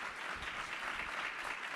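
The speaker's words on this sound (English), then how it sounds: "I want a round of applause for Ian." Audience applause for a speaker named Ian at a talk on scaling an online butcher shop, a soft, steady wash of clapping from a seated crowd, fairly distant and without voices.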